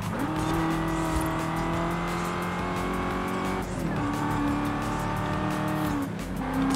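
A car races in the Forza Horizon 5 open-world game with a loud, constant engine drone whose pitch holds steady, dips and climbs again at a gear change, joined by brief tire squeal.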